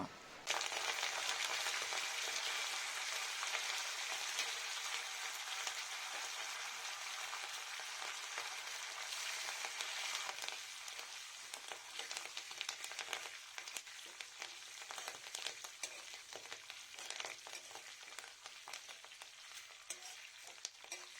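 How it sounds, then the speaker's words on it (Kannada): Continuous crackling sizzle of curry leaves frying in hot oil until crisp, loud and close, with occasional stirring scrapes, gradually softening over time. "ಕರಿಬೇವನ್ನು ಪೂರ್ತಿಯಾಗಿ ಕ್ರಿಸ್ಪಿ ಆಗೋವರೆಗೂ ಹುರಿದುಕೊಳ್ಳೋಣ"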